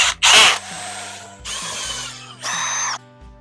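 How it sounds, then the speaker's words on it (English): Several short bursts of a handheld screwdriver tightening screws into a kayak anchor plate, ratcheting clicks and whirring in separate spurts with brief pauses between them, close up. "So I'll go back with a handheld screwdriver here and we'll finish torquing it down the rest of the way."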